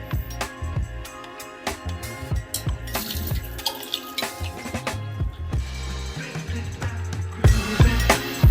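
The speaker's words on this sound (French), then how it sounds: "Je vais l'égoutter et le refroidir à l'eau froide." Cooked bulgur rinsed and cooled under a cold running tap for Lebanese tabbouleh, water splashing steadily with clattering knocks and thumps of a strainer or pot throughout, close and fairly loud, no talking.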